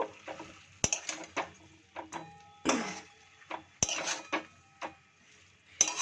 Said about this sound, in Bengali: দিয়ে এবার আবার ভালো করে একটু নাড়িয়ে নেব।